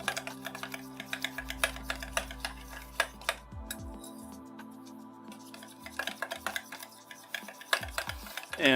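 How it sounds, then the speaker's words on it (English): A spoon stirs kimchi dipping sauce of minced jalapenos, apricot, sugar and honey in a bowl, making soft repeated clinks and scrapes with a rhythmic, close, fairly quiet quality, alongside a low steady hum and no talk. "I'm just mixing this up here with a spoon"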